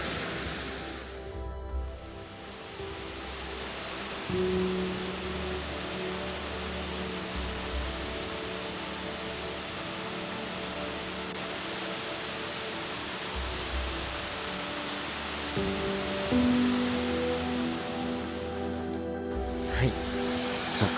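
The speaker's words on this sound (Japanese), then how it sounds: "桜滝はこちらです。" Sakura Falls waterfall at Amagase Onsen, a mossy hot-spring town in Oita, roars as a steady, dense wash of falling water, continuous and fairly loud throughout with no break.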